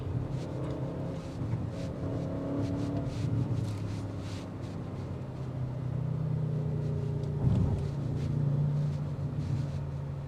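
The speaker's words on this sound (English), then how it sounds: "That exhaust that filters in is intoxicating." A 2025 Audi RS6 Avant Performance wagon engine drones low and steady, its exhaust swelling gradually as it accelerates, heard from inside the cabin without any talk.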